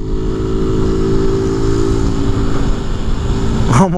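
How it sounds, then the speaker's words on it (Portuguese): A motorcycle's engine drones along the road in a steady, buzzing hum that holds for several seconds, close and fairly loud, then sweeps quickly upward at the end as it passes by. "Olha a motoca."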